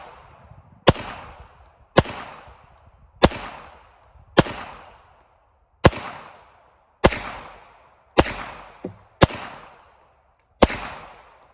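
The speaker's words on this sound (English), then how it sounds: "Target fell down. I'm still going to shoot at it." CZ-75 TS2 pistol fired at a target, ten loud sharp shots in a steady, evenly spaced string with short ringing decays and nothing else between them.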